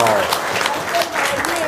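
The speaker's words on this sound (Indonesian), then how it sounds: "Tepuk tangan dong." Brief burst of audience clapping at a talk session, loud and dense, with cheering voices mixed in.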